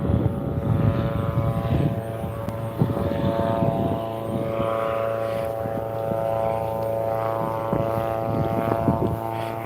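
A World War I Nieuport 12 two-seater biplane runs its engine and propeller near a replica hangar, giving a steady droning hum with a strong low throb that holds for the whole stretch, loud and close.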